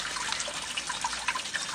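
Kitchen waste water pours from a grease trap strainer into a drum below, a steady close splashing trickle with no voices.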